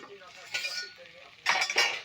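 A lid comes off a cooking pot with two bursts of metallic clatter and clinking, the second one louder and closer than the first.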